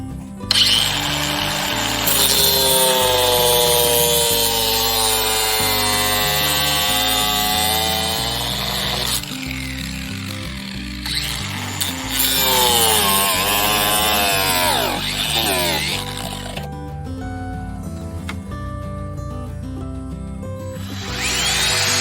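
A power saw cuts lattice wood to size in a yard beside a shed, the motor whining loud with pitch shifting as the blade bites through, pausing briefly between passes.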